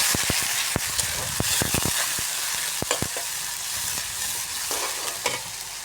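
Garlic and cumin paste frying in a pan while being stirred: a loud, dense crackling sizzle punctuated by many quick clacks and scrapes of a spatula, busier in the first half.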